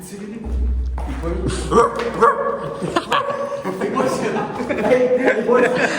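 A dog barks several times in short, loud bursts, mixed with yips, while people talk over it in an echoing indoor space.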